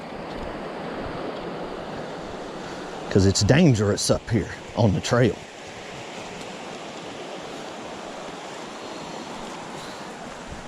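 Rushing creek water flows steadily outdoors in a storm-damaged valley after Hurricane Helene, a loud constant roar throughout, with someone talking briefly over it in the middle.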